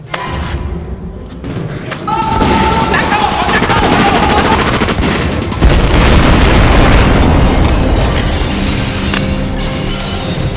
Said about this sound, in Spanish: ¿Y esa explosión?